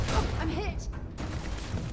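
Rapid gunfire in a Starfield firefight against an office worker, loud continuous shots packed close together with someone talking over the shooting.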